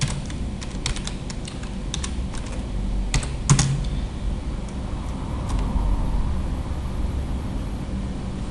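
Someone types on a computer keyboard while entering equations in Word, producing irregular clusters of light key clicks with a couple of sharper, louder strikes near the middle, set against a faint steady background hum.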